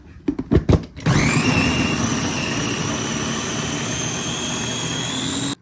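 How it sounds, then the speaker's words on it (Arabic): An electric blender whirs loud and steady, blending shawarma marinade with coriander, black pepper, salt and yogurt, after a few brief clunks as the jar is set in place. "نضرب كل شي بالخلاط"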